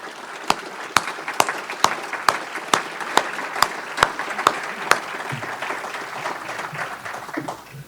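An audience at a talk on rock and roll history applauds to welcome a speaker to the podium: steady, dense clapping with a few sharp, loud claps standing out, fading off after several seconds.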